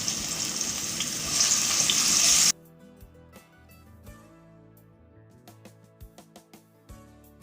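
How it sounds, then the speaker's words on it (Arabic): Minced garlic hits two spoonfuls of hot oil in a frying pan for a green bean salad with garlic and sesame, giving a loud, close sizzle for a few seconds. It then cuts to a quieter stretch of scattered light clinks. "هنحط الطاسه وهننزل معلقتين الزيت، ننزل كمان الثوم المفروم"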